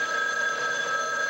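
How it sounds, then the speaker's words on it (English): Telephone bell ringing in a house near a stable, a steady continuous electronic trill heard alone, loud and close for the whole moment. "why don't you get the phone"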